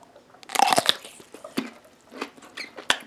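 A crisp bite into a crunchy, garlicky half-sour pickle, followed by several loud, close crunching chews, with no speech.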